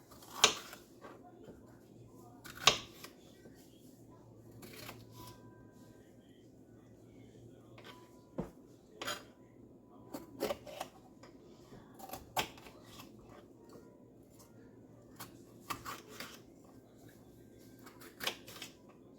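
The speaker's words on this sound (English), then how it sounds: "So we're just going to get them chopped" A knife chops washed tomatoes for canning salsa, giving sparse, irregular sharp taps on a cutting board at a quiet level over faint room noise.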